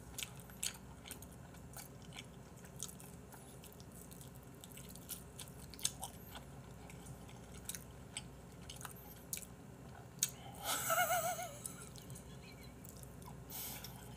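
Someone eating and chewing with lip-smacking, producing soft, wet mouth clicks and smacks that recur through a quiet stretch, plus a brief louder crunchy burst near the end.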